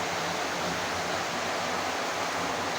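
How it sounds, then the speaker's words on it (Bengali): Heavy monsoon rain pours down outside a flooded village home, a dense, unbroken roar of water that stays loud and steady with no voices. "বৃষ্টির অবস্থা দেখেন কি জুম জুম শব্দ হচ্ছে"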